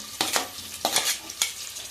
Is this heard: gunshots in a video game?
no